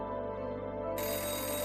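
A phone rings unanswered on a call, a steady electronic ringtone tone, fairly faint and unbroken throughout, with no voices.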